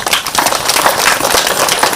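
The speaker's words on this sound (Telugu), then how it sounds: "సరే గట్టిగా క్లాప్ చేద్దాం." A group at a meditation gathering in Tiruvannamalai claps loudly together, a dense, continuous patter of many hands that stays strong for the whole moment.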